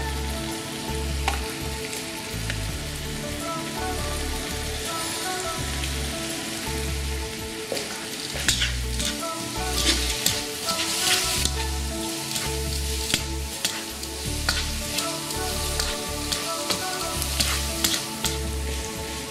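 Potatoes sizzle and fry in a pan with garam masala, a steady loud crackling hiss broken by the scraping of repeated stirring and a low rhythmic thumping underneath, with no voices.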